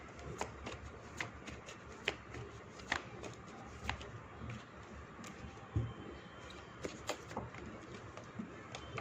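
Tarot cards are shuffled and drawn by hand, giving repeated crisp riffling snaps and soft slides spaced irregularly, close and fairly quiet, with no talking.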